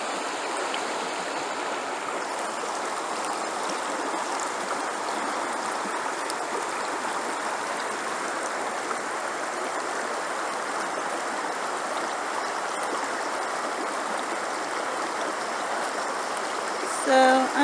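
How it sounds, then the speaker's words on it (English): Little River in Townsend, Tennessee, just outside Great Smoky Mountains National Park, flowing in a steady, even rush of water that stays constant and fairly close throughout the summer evening. "this is the little river in Townsend, Tennessee, just outside the Great Smoky Mountains National Park"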